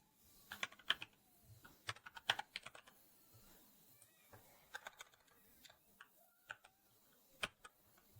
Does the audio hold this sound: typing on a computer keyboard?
yes